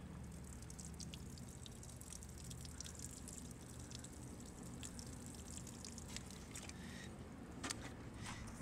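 Water is poured over a potted elderberry plant, a steady soft trickle and splash with scattered drips, fairly faint and continuous throughout, no voices.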